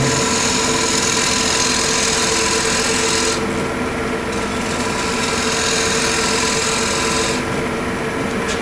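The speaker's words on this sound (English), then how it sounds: "Now I'm going to carve out the next one. So I'm holding it again at a fairly low angle. You can see the fatter shaving." A gouge cuts wood on a lathe while carving a square platter at a fairly low angle, throwing fat shavings: a loud, continuous rasping, scraping hiss with a steady motor hum underneath and no talk.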